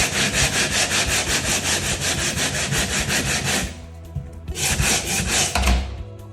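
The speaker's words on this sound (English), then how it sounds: "get yourself one of these like sanding pads for drywall." Drywall sanding pad scraping back and forth across a patched wall in steady, rapid rasping strokes, loud and close, pausing briefly near the end before resuming.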